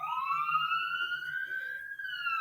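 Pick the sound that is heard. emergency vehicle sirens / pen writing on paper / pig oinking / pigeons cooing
emergency vehicle sirens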